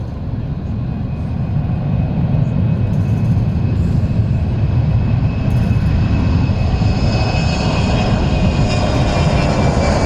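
An Airbus jet near London City Airport beside the river, its engine roar loud and close, building to a sustained broadband rumble with a rising whine through the whole stretch.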